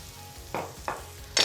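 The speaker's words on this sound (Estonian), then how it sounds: "Ja nüüd me praeme need ilusti ära." Onions frying in butter in a pan give a faint sizzle, broken by three short scraping stirs that flare up briefly, close and quiet with no talking.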